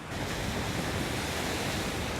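Ocean waves breaking on the shore at a seascape, heard as a continuous broad roar of surf mixed with wind noise on the microphone, steady and fairly faint without distinct individual crashes.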